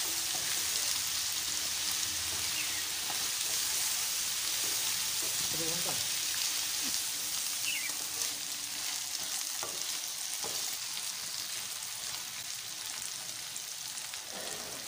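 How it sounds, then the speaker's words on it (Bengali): Taro pieces frying in hot oil and being stirred, a loud continuous sizzle with occasional scraping and clinks of the utensil, close and steady throughout. "তারপর কচুগুলো ভালো করে অয়েলের সাথে মিক্স করে নেব।"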